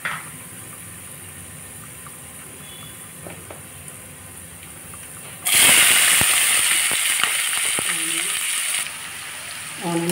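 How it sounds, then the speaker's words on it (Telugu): Onions and cashews hit a hot pan with a sudden loud, steady sizzle after several seconds of quiet kitchen background, with a few small clinks over the frying. "ఆనియన్స్ వేగిపోయింది."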